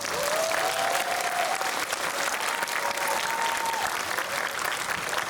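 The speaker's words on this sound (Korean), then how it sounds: "이렇게 큰 박수 한번 다시 부탁드립니다" A cinema audience at CGV Centum during a Busan International Film Festival post-screening talk gives steady, full applause that holds for the whole stretch, with faint high whistles rising above the clapping.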